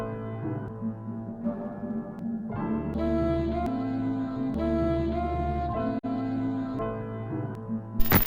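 Chopped sample played back through FL Studio's Fruity Slicer with polyphony set to one, a sequence of tonal musical chops with sustained pitched notes that cut off abruptly as each new slice starts, with no voice.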